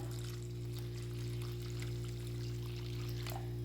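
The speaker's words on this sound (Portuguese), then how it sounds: "E vou entrar com a minha água morna." Warm water pours steadily into a bowl of gluten-free rustic bread dough with xanthan gum and olive oil, a continuous close splashing trickle over a constant low background hum, without speech.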